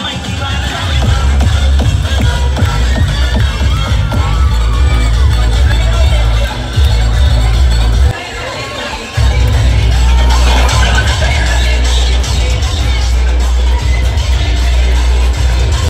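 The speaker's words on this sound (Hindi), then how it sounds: "गाइस देख सकते हो इतनी ज्यादा भीड़ है।" A large crowd at a Diwali festival gathering in Balaghat, a loud, dense wash of shuffling, voices and shouts with deep rumbling underneath, briefly dipping once before surging back.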